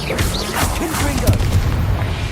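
A Confringo blasting spell exploding in Hogwarts Legacy, a dense, loud magical boom with crackling burst over a busy game soundscape, a voice briefly present.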